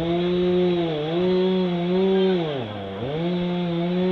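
A chainsaw cuts wood during a rescue competition event in 2011: a loud, steady engine drone that dips and bogs briefly as the chain bites, then recovers, with no talking.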